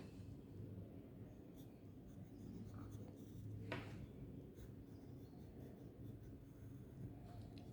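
Pen or marker strokes drawing a star network diagram by hand on paper, a soft continuous scratching and rubbing with a few brief sharper strokes, close and faint over a steady low background hum.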